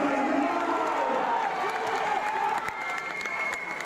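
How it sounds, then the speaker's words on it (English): A crowd at a fight night at the Eston Sports Academy cheers and applauds steadily, a dense, sustained roar of voices and clapping filling the space throughout. "Brad Conway getting the crowd ramped up a little bit."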